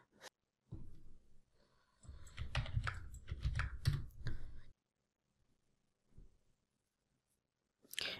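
Username and password are typed on a computer keyboard while logging in to a VPS server: bursts of quick key clicks in two runs, fairly close, then near silence with a few faint taps and a final short burst.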